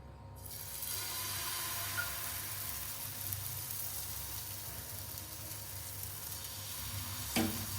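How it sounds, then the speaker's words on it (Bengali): Patishapta batter hits a hot pan and sizzles continuously, a soft, even hiss close by that begins abruptly, with a brief scrape or knock near the end. "এই যে ব্যাটারটা আছে এই ব্যাটারটাকে এখন আস্তে আস্তে করে দিতে হবে"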